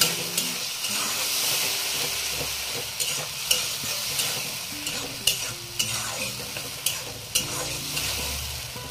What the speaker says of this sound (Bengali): এবার এটাতে এই যে কাঁচা লঙ্কা আর রসুনের পেস্টটা দিয়ে দিতেছি। এটাতেই একদম একটু টানাইয়া কষা করে